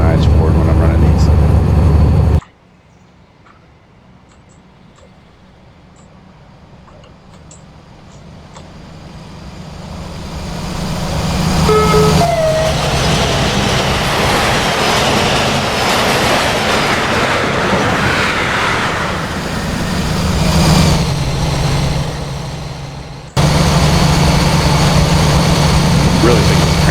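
A DB BR218 diesel locomotive in Virtual Railroads rumbles along the rails with rhythmic clickety-clack, starting quietly, then swelling to a loud, steady running drone, with someone talking briefly at the start and end.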